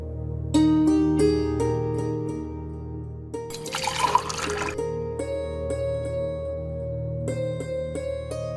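A short, splashy burst of water is poured for a guest in a home scene. It comes midway under steady sustained background music, with no speech.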